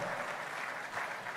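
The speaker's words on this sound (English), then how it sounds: "Please applaud." An audience at the ALAGHODARO 2023 event applauds in a dense, steady burst of clapping that fills the brief moment without pause.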